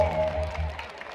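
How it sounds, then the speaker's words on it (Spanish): Brief burst of applause from guests at a quinceañera party, dense clapping with crowd noise filling the short moment. "Aplauso que se escuche bonito."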